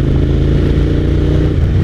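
Suzuki SV1000S V-twin motorcycle engine pulling hard around 3000 rpm, a loud, steady, throbbing low rumble heard close from the rider's position with no pauses.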